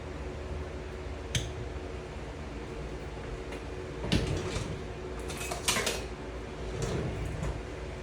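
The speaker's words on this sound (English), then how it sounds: "Screw it down just finger tight." Metal band being screwed finger tight onto the lid of a glass canning jar of homegrown tomatoes, a few scattered metallic clinks and scrapes over a steady kitchen background hum.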